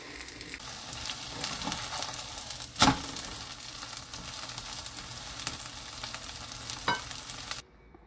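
Zucchini and green chili pancakes fry in a pan, giving a steady close sizzle that runs throughout, with a sharp spatula clank near the three-second mark and a softer tap later on.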